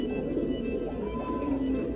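A purple-necked male pigeon coos softly and steadily at close range over a constant background hum, with no talking.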